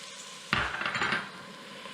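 Garlic is dropped into onions frying in a pan while cooking Nigerian-style food, bringing a sudden loud sizzling burst that hisses for under a second and then fades to a quieter background crackle.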